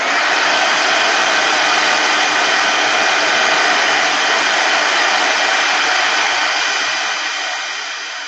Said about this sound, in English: this is still wet, so we need the hot heat tool